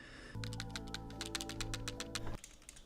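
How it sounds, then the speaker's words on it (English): Rapid, irregular clicking and tapping from a loose DJI Pocket 4P camera case rattling, a close burst of dense ticks lasting about two seconds over a steady hum. "it's very rattly and loose"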